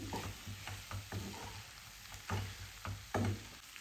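Potato and water chestnut curry cooking in a pan, with repeated scraping stirs in an uneven rhythm over a low, steady sizzle, close and moderately loud, no voices.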